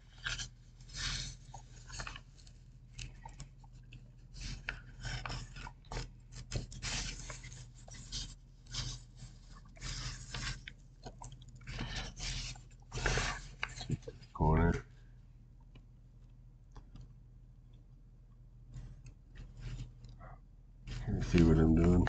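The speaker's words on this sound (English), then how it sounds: "unfold it, and then fold the corner back into this line right here. Fold it back over." Origami paper is folded and creased by hand in an ASMR session, giving close, soft crinkling and rasping rubs in uneven bursts beneath quiet speech.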